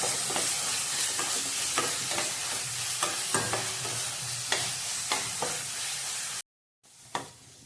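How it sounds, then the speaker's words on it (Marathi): Spice masala for a mutton curry roasted in oil over a slow gas flame, a steady close sizzle with repeated soft spoon scrapes and taps, then a brief silence and one more stir at the end, no talking. "मसाला चांगला तेलात भाजला गेलाय."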